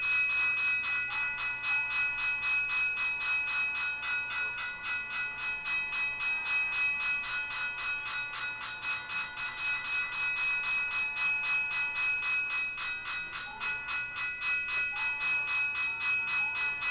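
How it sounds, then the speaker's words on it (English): A train passing in the Trainz Simulator 12 video game, with a steady rhythmic clatter and a sustained tone running unbroken from start to finish. "Train's coming."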